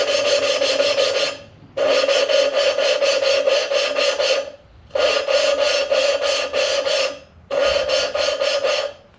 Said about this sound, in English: I'm going to take the valve lapping tool between my hands